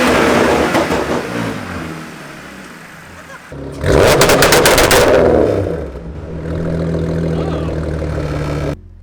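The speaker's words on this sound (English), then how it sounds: "we're gonna show him what the whine sounds like now. It's a little bit louder with the ported supercharger." Audi S4 with a ported supercharger revs hard in a sharp burst, its whine rising over a steady running engine, then settling back to a lower drone; close and loud.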